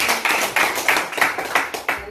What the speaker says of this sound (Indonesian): tepuk tangan dulu Bapak Ibu